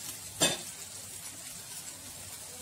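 Marinated chicken lands in a pan of sizzling onion-tomato masala for Chettinad chicken curry, giving a short sharp hiss and clatter near the start, followed by a quieter, fading sizzle.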